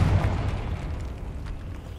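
A Confringo fire spell explodes in the video game Hogwarts Legacy, a heavy low boom at the very start that rumbles and slowly decays across the clip, with no voice on top.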